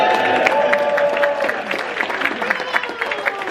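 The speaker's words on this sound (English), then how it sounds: "You guys are clapping for yourselves." Audience applause at a stand-up comedy show warming up a film screening at the Cinequest Festival: a dense, steady wash of clapping from a crowd, with a few cheers and voices mixed in, holding strong throughout.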